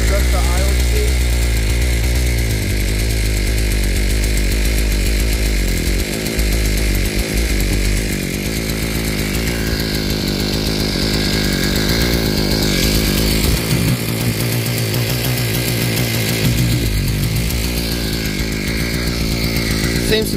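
A Thunderbay Y43 gas earth auger's small two-stroke engine runs loud and close after carburetor repair, a buzzing chainsaw-like drone with a slight pitch change partway through, while someone talks over it.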